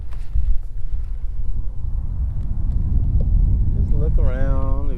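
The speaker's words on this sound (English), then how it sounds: "we got another truck coming" Low rumble of a truck passing on a road near a bass fishing spot, with steady wind noise on the microphone and a brief tonal whine near the end.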